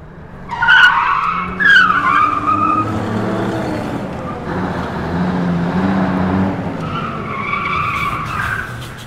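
Car driven fast around corners for a film stunt, towed rather than steered, with tires squealing loudly in repeated bursts over a steady engine drone, close and without speech.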